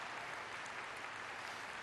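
Steady, dense applause from a conference audience, even and continuous throughout, heard at a moderate distance with no break in the clapping.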